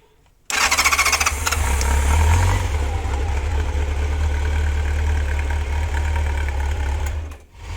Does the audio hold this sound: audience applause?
no